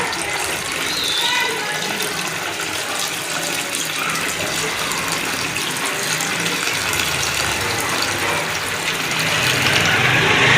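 Water pouring steadily into a cooking pot while preparing chicken biryani, 1.5 kg of water added at once, a continuous rushing splash that stays loud and swells toward the end, with no talk over it.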